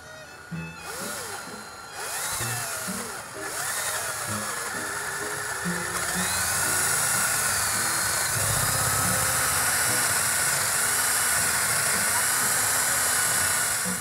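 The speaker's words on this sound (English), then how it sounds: "we're going to use a 9/16 inch drill bit, which is 1/16 bigger than 1/2 inch" A power drill with a 9/16 inch bit bores through a wooden post with a steady loud whirring grind that gets denser and louder as it goes, while someone speaks over the start.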